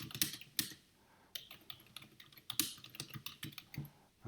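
Someone types on a computer keyboard, sparse clicks at first and then a quicker run of close, crisp keystrokes, quiet and with no talking.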